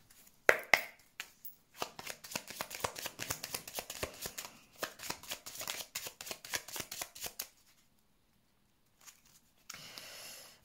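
Lenormand oracle cards shuffled by hand in a run of quick, crisp riffling bursts that go on for about seven seconds, a pause, then a brief closing rustle, all near and clear.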